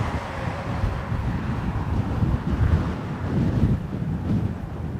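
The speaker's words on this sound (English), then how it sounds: "with the wind being the way it is, I can't hold the umbrella in the wind" Strong wind buffets the microphone at an airport, a rumbling, gusting roar that surges and eases, peaking in the middle.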